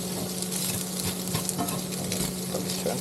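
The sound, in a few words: fried rice frying in oil on induction cooktop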